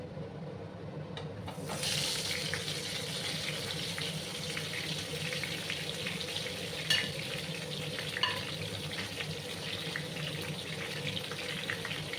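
Pointed gourd pieces frying in hot mustard oil in a wok, a loud, continuous sizzle that surges as the pieces go in and then holds steady with occasional sharp pops and crackles.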